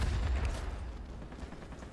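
20mm cannons on an MB 5 warplane in World of Warplanes fire in a heavy, rumbling continuous burst, loud and close, with a booming low end that tapers slightly toward the end.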